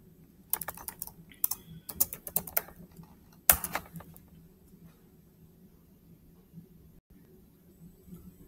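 Computer keyboard typing during a login on a CentOS 7 setup: irregular bursts of close, crisp key clicks with a few louder single taps, then fading to quiet.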